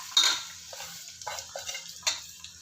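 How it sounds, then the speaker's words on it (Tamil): Chopped onions tipped into a cooking pan for tomato rice, producing a sharp clatter followed by a series of light scraping and stirring clinks in a quiet kitchen. "வெங்காயத்தை போட்டுக்கிறேன்"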